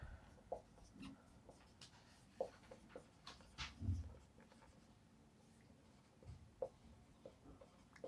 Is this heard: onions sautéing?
no